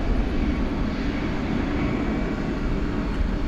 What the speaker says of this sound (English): Hey, I think we've got a heavy jet going out over here.